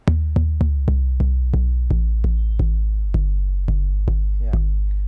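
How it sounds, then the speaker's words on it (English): An analog bass tom from an Elektron Analog Rytm MK2 drum machine hits about fourteen times at a steady pace. Each hit is a deep, booming, pitched thud that decays quickly, heard up close with no talking. "what you're hearing is the analog generated bass tom"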